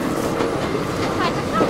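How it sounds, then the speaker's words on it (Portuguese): A train rumbles past close by with a steady, loud roar of rolling wagons and faint clickety-clack, and a few voices are faintly audible underneath. "O trem, ó."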